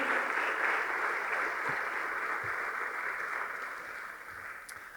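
A church congregation applauding during a sermon, a soft, dense, steady wash of clapping that fades slightly toward the end, heard alone without talk.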